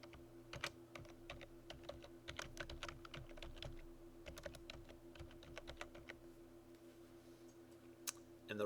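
Steady typing on a computer keyboard while entering text into a spreadsheet cell, with bursts of close, crisp key clicks over a faint constant hum and a louder final keystroke.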